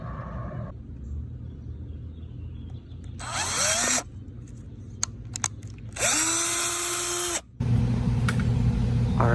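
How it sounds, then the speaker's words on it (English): A power drill with a 1/8 inch bit bores holes into vinyl siding outside a house, several short whining bursts rising in pitch as the motor spins up, separated by pauses with low background rumble. "I'm going to be drilling holes around every foot in this thing"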